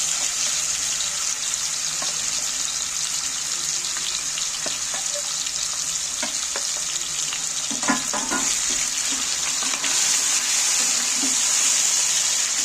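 Chicken pieces coated in a yogurt marinade are stirred around in hot frying oil, giving a steady, wet sizzle broken by soft scraping and clicking strokes, close by and with no talking.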